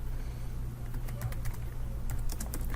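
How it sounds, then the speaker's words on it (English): Typing on a computer keyboard while entering figures into statistics software, a quick run of close, light key clicks over a steady low hum, with the tapping densest toward the end. "So I will type in here,"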